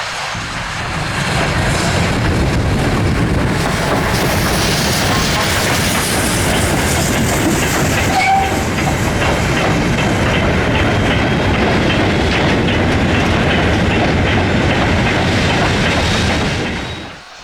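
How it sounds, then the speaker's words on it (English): A loud steam-hauled mineral freight train, locomotive 5643 on the Great Central Railway, rumbles past close by, steady clattering of wagons over the rails for a long stretch before fading at the end. "5643 heads for Loughborough with a 12:45 p.m. mineral train from Rothley Brook"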